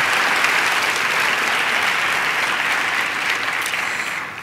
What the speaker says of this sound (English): Please join me in giving them a rousing round of applause.